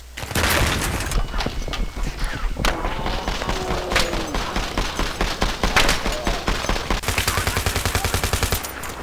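Rapid bursts of gunfire and machine-gun rattle in a busy video game battle scene, with scattered single shots, explosions and faint voices in the background.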